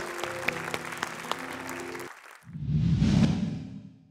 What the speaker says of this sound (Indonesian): Tepuk tangan dulu dong untuk Mbak ini ya